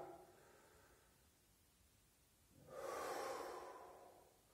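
Slow, deep breaths sound close to the ear: a soft, long exhale fades out, a quiet pause follows, then a fuller, rushing breath swells and slowly eases off, with no talking.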